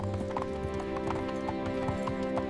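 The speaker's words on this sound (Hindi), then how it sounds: "वो घोड़ा गाड़ी पर चढ़ा और शहर की तरफ चल दिया।" A horse pulling a cart clip-clops along toward town in a cartoon story, its hooves making a steady, even rhythm at a moderate distance.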